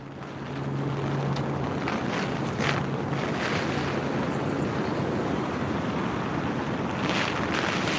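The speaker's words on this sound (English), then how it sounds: "Wind's getting right up." Strong wind gusting over open water at a lake shelter, continuous loud roaring buffeting with wave wash underneath, no voices.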